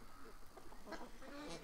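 Ducks quack in short bursts while being fed, several birds close by over steady outdoor background noise, with faint voices mixed in.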